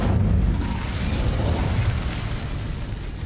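An Incendio fire spell in the Hogwarts Legacy video game erupts in a loud, dense, roaring fiery blast that fills the whole clip and slowly eases in strength, with a low rumble beneath.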